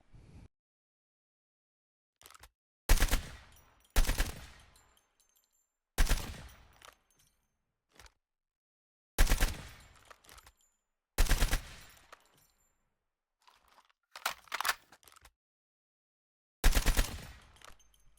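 ASM10 rifle fire in Call of Duty Mobile: short, loud bursts of rapid automatic shots separated by silent gaps, repeating about eight times with no voices.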